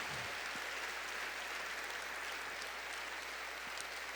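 A church congregation claps in welcome, a faint, distant wash of steady applause over low room hum, with no talk.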